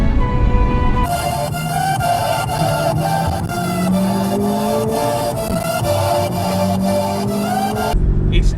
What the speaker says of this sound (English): This is where the Porsche Cayman just comes to life.